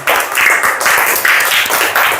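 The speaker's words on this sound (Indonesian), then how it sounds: "tepuk tangan untuk kita semua dulu ya" Lively applause from a classroom of students during an Islamic religious education lesson, many hands clapping together in a dense, steady, fairly loud burst lasting a couple of seconds.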